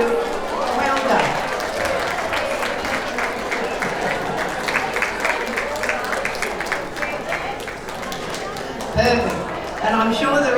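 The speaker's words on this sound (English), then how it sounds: "Could you stand up, please, for applause?" Applause fills a Christmas luncheon room, a dense steady patter of many hands clapping continuously, with crowd murmur and a voice briefly under it.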